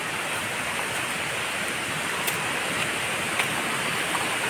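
Waterfall at Daporijo: steady, dense rushing roar of falling water, broadband and constant throughout with no break, close and moderately loud with no voices.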